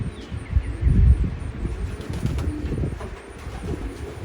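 An imported pigeon cock coos softly in a low, rumbling murmur under a background of faint ambient noise and occasional distant chirps.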